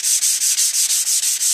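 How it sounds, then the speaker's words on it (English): Crotch walnut veneer being sanded by hand with 220 grit sandpaper: quick, even back-and-forth strokes, about eight in a row, loud and close with a papery rasp and no speech. "just sanding with the 220 now by hand"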